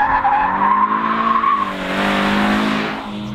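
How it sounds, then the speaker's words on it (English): A Scion FR-S drifts on a racetrack, its engine droning steadily while tires squeal loudly and continuously through the slide, with no talking. "The thing I love best about the FRS is that you can drift it like this"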